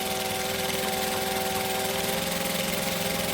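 Sewing machine stitching and back stitching a hoodie, a loud, close, steady mechanical whir with a rapid regular rattle and a faint tonal hum running throughout.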